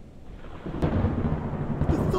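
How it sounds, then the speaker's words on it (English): Thunder in the horror video game The Joy of Creation rolls in as a low, broad rumble with sharp cracks that build and keep rumbling loudly. "The thunder's scaring me."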